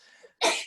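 A single sharp, explosive sneeze bursts out after a faint breathy intake, loud and close, ending abruptly.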